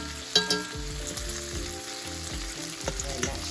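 Thick-cut bacon fries in a pan with a loud, close, crackling sizzle. Sharp pops and spits sound as the strips are turned, with no voices over it.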